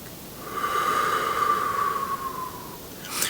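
Deep diaphragm breathing, one long, smooth breath drawn in and out close to the ear, soft and airy with a slight whistle, ending with a faint rush of air.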